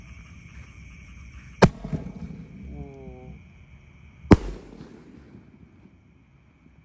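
Bima Sakti firecracker rockets lit and launched on a Ramadan night: two sharp, loud bangs about three seconds apart, each followed by a brief fizzing tail, with a faint whistle in between over steady background hum.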